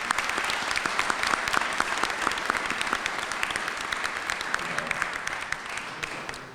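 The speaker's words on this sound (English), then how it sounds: "A strong applause for all the founders of our community here in Waterbury." A crowd at a Waterbury Kosovar community event applauds the community's founders, giving a loud, sustained round of many overlapping claps that holds steady for several seconds.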